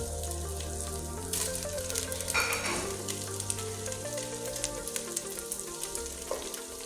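Chicken frying in a pot while layering a homemade biryani, a steady soft sizzle with light stirring clatter underneath, moderately quiet and alone.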